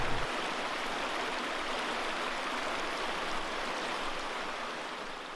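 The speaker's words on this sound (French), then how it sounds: "Aujourd'hui, je vous emmène sur mon ruisseau favori." Steady broadband rush of a flowing trout stream, continuous and close, with no voices or other sounds over the water's hiss.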